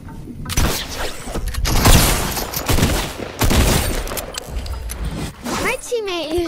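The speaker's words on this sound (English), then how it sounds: "My teammate is shooting at me." Fortnite gunfire crackles in rapid bursts and loud booms, with sharp shots and impacts crowding the mix while a player talks over much of the action.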